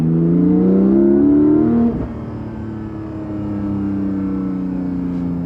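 A Porsche Cayman GTS 4.0 engine revs up with a rising tone, briefly drops off, then settles into a steady, lower drone as it keeps driving.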